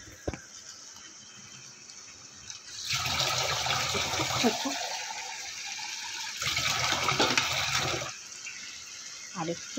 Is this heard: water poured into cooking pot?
yes